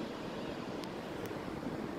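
Surf rolling in at Daytona Beach, a steady broadband wash of waves with wind noise over the microphone, continuous and fairly even with no talk.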